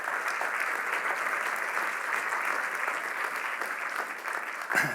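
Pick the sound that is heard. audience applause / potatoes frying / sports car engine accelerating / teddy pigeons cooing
audience applause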